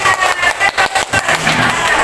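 A school group at a high school claps together in steady bursts of applause, fairly loud and close, with a few brief pauses between rounds.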